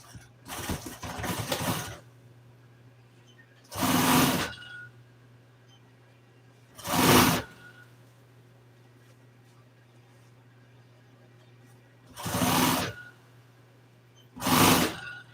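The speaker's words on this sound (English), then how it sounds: "I'm just taking this piece right here and sewing it right back on" An upholstery sewing machine stitching a piece of auto interior trim runs in five separate bursts of steady mechanical whirring, each one to two seconds long, with a low motor hum continuing between the bursts.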